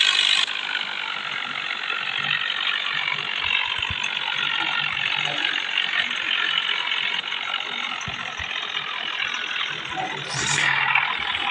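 Tractor hauling two trolleys strains to climb a slope, its engine a steady labouring mechanical drone with rattling and clanking, continuous and fairly close throughout.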